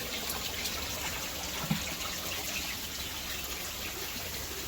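Water trickling and splashing steadily from returns into an aquaponics sump in a greenhouse, a continuous soft flow with one brief knock.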